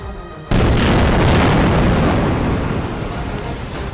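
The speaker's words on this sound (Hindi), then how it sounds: "अचानक एक जोरदार धमाका होता सुनाई दिया।" After a moment of quiet, a sudden, powerful explosion booms out, followed by a heavy rumbling roar that slowly fades.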